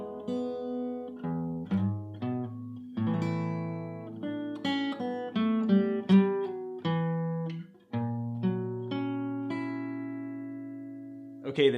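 Guitar chords and single-note lines from a song, played alone at a moderate pace, with sustained strummed chords and plucked melody notes ringing out.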